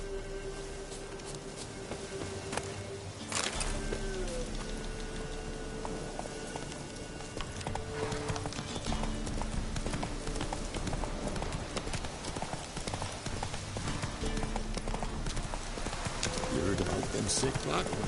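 Roach the horse gallops in The Witcher 3, hooves pounding in a steady, continuous rhythm that runs throughout, mixed with other game sounds and occasional voices.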